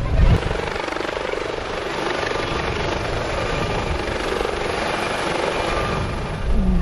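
A U.S. Coast Guard helicopter hovers nearby over water during a rescue demonstration, its steady rotor thrum and engine whine droning loudly without a break.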